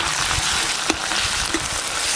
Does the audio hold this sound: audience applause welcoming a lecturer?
no